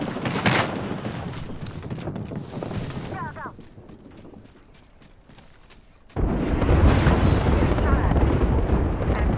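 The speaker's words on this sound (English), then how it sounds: "Airstrike." Airstrike explosions in the Apex Legends video game, loud booming blasts that rumble at the start, ease off into a quieter stretch, then return heavier and sustained, mixed with game sounds and some talk.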